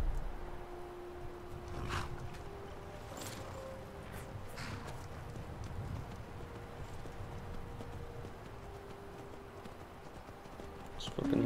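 Steady hoof clip-clop from a horse in Skyrim's Falskaar under game-style ambient sound, with faint tonal hums running throughout.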